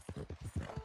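A horse's hooves clip-clop in Red Dead Redemption 2, about seven quick, close thuds in a steady trotting rhythm, with no speech.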